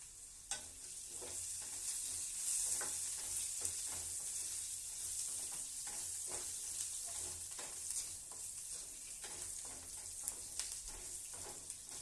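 Spiced masala sizzles and fries steadily in a pan, with a hot crackling hiss running throughout and occasional sharp stirring clicks and scrapes, close and continuous with no talk.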